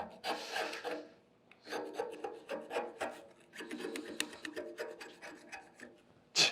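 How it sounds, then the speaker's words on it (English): Weld spatter being scraped off a metal surface, a series of rasping strokes in an uneven rhythm, close and fairly loud, with no talk. "It's easy to scrape."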